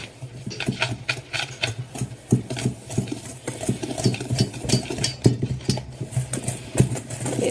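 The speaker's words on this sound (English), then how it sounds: "And we're gonna whisk those in." Eggs being whisked into chocolate pie filling, a steady fast rhythmic scraping and clicking of a whisk against a bowl, close and continuous throughout.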